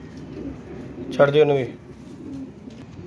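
Pigeon cooing up close, a short throaty burst heard over someone speaking, with a faint low murmur of birds in the background.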